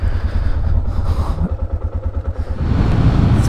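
Motorcycle being ridden, a close low engine throb with a pulsing, chugging rhythm that eases briefly and then rises again, with wind noise over it.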